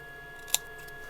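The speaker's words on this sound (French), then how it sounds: "vous prenez ensuite une petite paire de ciseaux et vous coupez." One quick, crisp snip of small scissors cutting elastic, close and isolated against a quiet background.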